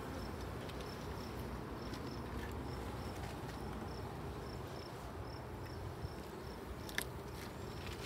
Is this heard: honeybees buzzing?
yes